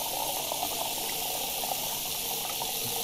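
Water pours steadily into a bucket in the Cooking Simulator video game, a continuous even rushing fill that stays at a constant level, close by, with no talking.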